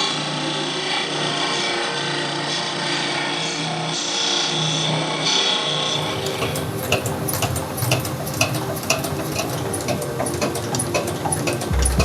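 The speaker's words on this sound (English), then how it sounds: "Now I grind the edges so the sheet metal won't go into the billet." A power grinder works the edges of sheet metal wrapped around a Damascus billet, a loud continuous whine that shifts to a harsher, denser grinding tone midway with rapid ticking scrapes.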